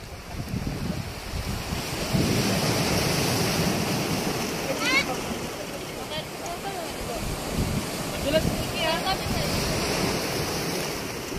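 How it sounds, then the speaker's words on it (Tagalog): Ocean waves breaking on a beach with strong surf, a broad steady wash of water and wind noise over the whole stretch, with faint voices in the background. "Andito kami sa Dalampasigan. Lalakas ng alon."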